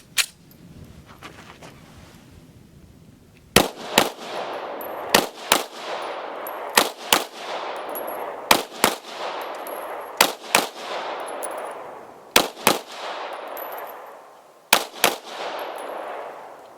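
An FMK 9C1 G2 9mm pistol fires about a dozen sharp gunshots outdoors, mostly in quick pairs separated by pauses of a second or two, each crack loud and followed by a ringing echo tail.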